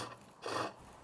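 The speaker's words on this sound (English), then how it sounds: "this chisel we use to just make the billet nice and smooth." A flat finishing chisel makes one short, close rasping scrape as it smooths a wood billet turning on a pole lathe.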